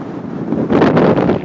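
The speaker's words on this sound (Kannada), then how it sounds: "ಮೇಲ್ಗಡೆ ಇಲ್ಲೂ ಸಖತ್ ಗಾಳಿ" Strong wind at Mullayanagiri hilltop near Chikmagalur buffets the microphone in a rough, roaring rush that swells louder halfway through.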